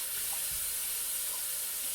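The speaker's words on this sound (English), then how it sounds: "I got hot water cleaning that sink out" Hot water running into a kitchen sink during cleaning, a steady, close, loud hiss and rush of flow with no break, filling the whole stretch without voices.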